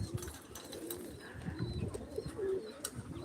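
A pigeon coos softly a few times against a steady outdoor background hum, with no one talking.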